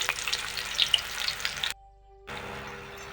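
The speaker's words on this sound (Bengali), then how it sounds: "এই দেখুন বন্ধুরা, পাঁপড় ভাজা হয়ে গেল" Papad frying in hot oil, a close, busy sizzle with crackling pops that cuts out for a moment and then resumes.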